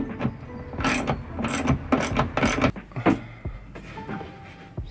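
A bolt is tightened on the rock and roll bed of a VW T2 campervan, a close run of quick ratcheting clicks and metallic creaks in bursts, slowing and thinning out toward the end.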